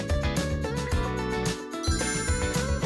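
A phone rings with a bright, melodic ringtone that plays continuously and fairly loud in an indoor workshop where battery packs are being built.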